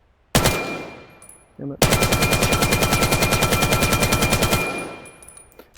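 In the VR shooter Vail, a rifle fires a brief burst, pauses, then lets off a long, rapid automatic stream of loud, close shots that gradually trails off, and a voice briefly swears.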